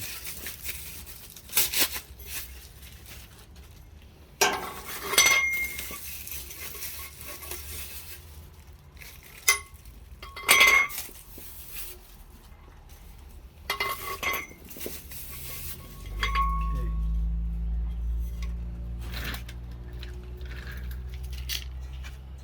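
Metal legs of a ROVSUN three-burner outdoor propane stove being handled and fitted, with scattered clinks, taps and scrapes of metal at close range, then a low steady hum toward the end.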